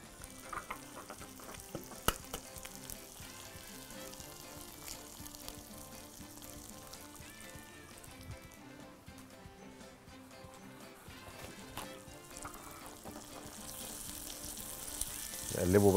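Eggs frying with sausage in a pan give a quiet, steady sizzle with occasional scrapes and taps of stirring, growing a little louder near the end, while someone talks softly in the background.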